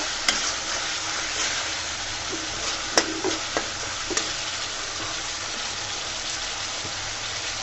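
A spice paste fries in a pan for a fish-fat curry, giving a steady crackling sizzle like light rain with occasional sharp spoon taps and scrapes as it is stirred. The sound stays close and unbroken.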